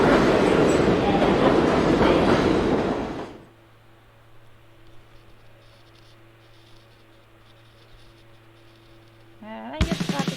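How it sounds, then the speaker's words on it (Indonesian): A train roars past loudly for about three seconds, then cuts to quiet background hum before another loud burst of rumbling returns at the very end. "semakin ke atas ini suara kereta"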